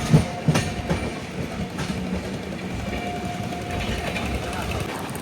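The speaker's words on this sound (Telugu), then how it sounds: "ట్రైన్ అయితే మంచి స్పీడ్లోనే వస్తుంది." The Jan Shatabdi Express, heard from on board, gives a steady rumble and rattle as it runs along the tracks at speed, with faint rhythmic clacks, while someone talks over it.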